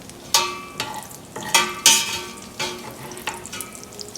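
Crispy bacon sizzling in a pan, with several sharp clanks and stirring scrapes rising over a continuous close frying hiss.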